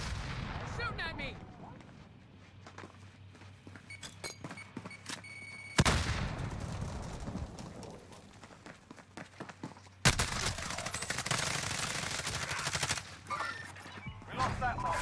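Gunfire in a Call of Duty match, with repeated rapid shots and bursts that come in dense clusters, loud and close, and a person speaking in between.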